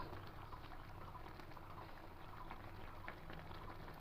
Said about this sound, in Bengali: আমি একটু ভালো করে নারকেলটাকে সেদ্ধ করে নিচ্ছি দেখুন জলের সঙ্গে নারকেলটা খুব ভালো সেদ্ধ হয়ে গেছে